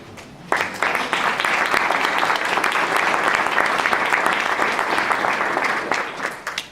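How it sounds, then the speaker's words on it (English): An audience breaks into steady, loud applause at an awards introduction, many hands clapping together in a dense, sustained wash that holds for several seconds before tapering off. "Go ahead and applaud"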